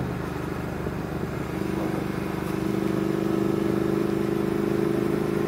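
A Triumph Thruxton R motorcycle cruising along at speed, its engine a steady droning hum that rises slightly in pitch and loudness over wind noise.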